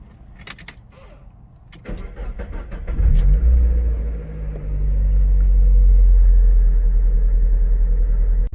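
A Mazda Miata with an ongoing fault starts up after a brief jingle of keys, cranking and then catching into a deep, loud, close idle rumble that swells and holds steady.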